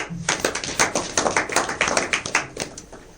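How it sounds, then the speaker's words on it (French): An audience claps warmly for students at an opening speech on humanitarian crisis management, a fairly small group giving brisk, rhythmic applause that sounds close and fairly dry, with distinct individual claps running throughout. "on va également les applaudir chaleureusement"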